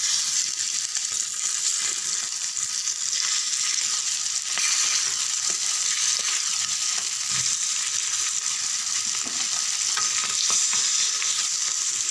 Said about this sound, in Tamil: எண்ணெய் வச்சுருக்கேன் மீன் வறுக்கிறதுக்கு